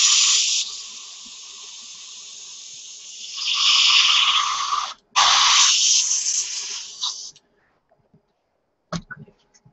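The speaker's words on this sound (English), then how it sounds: "This is my little airbrush thing that I've made myself." A homemade airbrush spraying paint during a build of a Tamiya 1:72 SU-34 model: loud, steady close hissing bursts that stop and restart briefly, then fall silent apart from a few small clicks.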